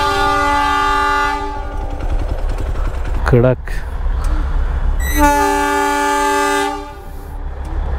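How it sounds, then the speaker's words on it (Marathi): A train passes near Garbett plateau with a constant heavy rumble. Its horn blasts long and loud twice, with a brief voice heard between the blasts. "ट्रेन येते वाटतं"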